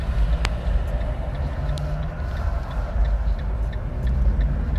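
A manual car at a driving lesson judders as it pulls away, a low uneven engine rumble and shaking throb heard from inside the cabin, steady and fairly loud.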